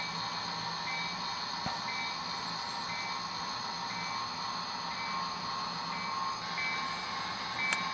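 A model train reverses through a yard to couple up its cars, giving a steady, faint electric motor whine with a soft mechanical hum and one brief click, close by and with no talking.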